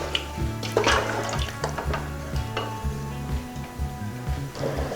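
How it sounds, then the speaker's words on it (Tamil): Water boiling in a pot for beef biryani in a home kitchen, a steady bubbling and sizzling texture with occasional clinks of utensils against cookware, close and continuous. "இப்போது நல்லா கொதி வந்துடுச்சு."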